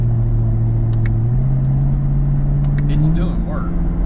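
Supercharged Camaro ZL1 with a K&N carbon fiber cold air intake accelerating hard in fourth gear, a loud steady engine drone that climbs in pitch, with someone talking over it.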